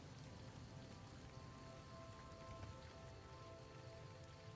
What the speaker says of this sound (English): No, just rain.